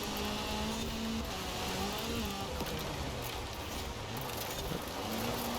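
A rally car in Forza hits its rev limiter while sliding downhill, giving a steady, loud, buzzing engine drone with a stuttering high-rev whine throughout and no talking.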